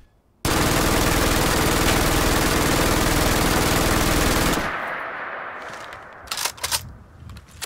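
An LMG from a Fallout 4 weapon mod fires one long, continuous burst for about four seconds, a fast buzzsaw-like roar, loud and close. It cuts off abruptly, and a few brief mechanical clicks follow.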